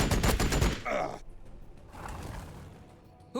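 Battlefield gunfire from the Warhammer 40000 Battlesector strategy game bursts in a dense fusillade of rapid shots for under a second, then fades into a softer rumble and distant battle noise.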